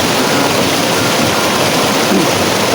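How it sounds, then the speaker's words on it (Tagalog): A waterfall roars loudly and close by, a continuous dense broadband rush with no pauses and no voices over it. "Pasensya na sa tubig kasi maingay talaga."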